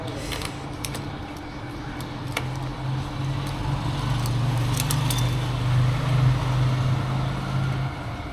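Zontes ZT155 G1 motorcycle engine starting up and idling, a steady low mechanical drone with faint rattling ticks, held close and continuous for the full stretch with no talk.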